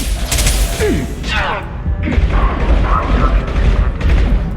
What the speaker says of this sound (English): Get that shutter closed.